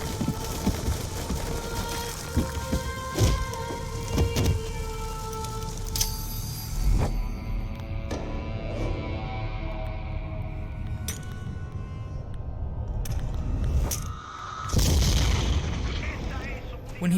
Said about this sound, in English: When he comes to after the explosion, Mason climbs out of an impressive amount of rubble for a single grenade